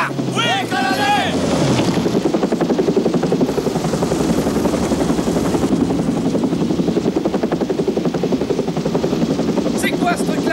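A military helicopter's rotor chops steadily and loudly throughout, with a rapid rhythmic thumping over a broad engine roar, and brief voices at the start and end.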